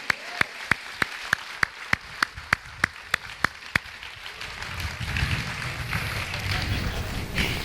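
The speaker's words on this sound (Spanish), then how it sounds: "Dale un aplauso al Señor si el Señor te ayuda." Church congregation applauding: a steady run of sharp, evenly spaced claps for about four seconds, then a denser wash of crowd clapping and murmur that grows louder and fills the rest.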